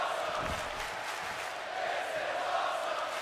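A crowd chants in WWE 2K17 wrestling, a broad, steady arena roar of massed voices sustained at even loudness under the game's ambience.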